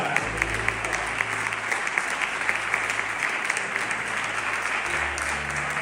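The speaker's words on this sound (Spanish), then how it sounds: "Vamos a darle un aplauso para recibir la palabra." Congregation applause at a church service fills the room, a steady dense clapping from a sizable crowd lasting several seconds with a low hum underneath.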